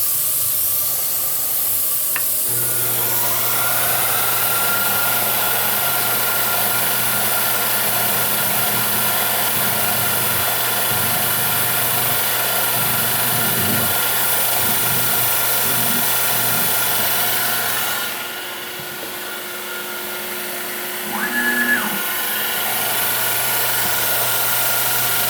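A spotting drill in a machine lathe or mill spots holes in a metal workpiece for a grinder wheel guard, a steady motor hum with low machining tones running throughout, dipping briefly near the end with a short squeal.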